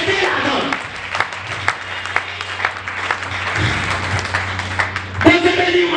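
A church congregation applauds during a sermon, a steady wash of clapping with sharp individual claps standing out, a low sustained tone underneath and brief voices near the end.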